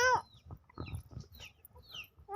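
Domestic chickens clucking close by in short, uneven bursts, with a sharper call at the start and the end; no one speaks.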